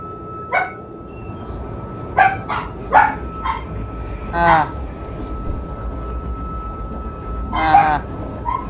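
Several dogs bark in short, sharp bursts scattered across a few seconds, fairly loud and near, mixed with a person talking and a low steady background hum.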